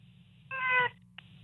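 A cat gives a single clear meow, loud and close, lasting under half a second, followed by a brief faint chirp over a low background hum in a morning radio studio.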